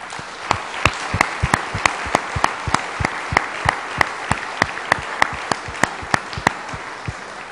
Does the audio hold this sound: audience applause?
yes